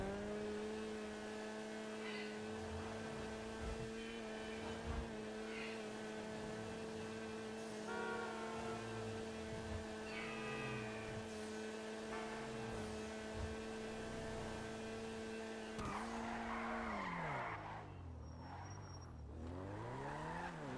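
Engine of the Weeny Issi Classic, a small retro car in GTA Online, droning steadily with shifting revs and brief tire squeals, ending in a falling, wavering engine pitch; loud and continuous with no talking.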